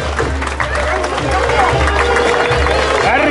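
Spectators at a jaripeo bull-riding event applaud the riders, a steady crowd roar of clapping and voices under an announcer who keeps talking.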